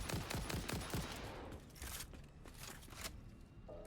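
Rapid gunfire from new weapons in the factory-building video game Satisfactory, a dense fusillade of close shots in the first second or so that thins into scattered bursts and game effects.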